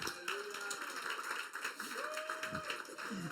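Applause from a church congregation during a sermon, with a sustained patter of many clapping hands at moderate volume and faint tones or voices rising above it.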